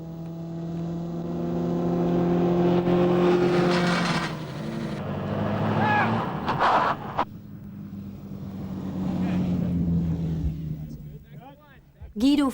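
Stunt cars tear through a re-enactment of James Dean's fatal Porsche crash, engines droning and revving loudly under music and commotion, fading toward a quieter stretch before a brief burst near the end.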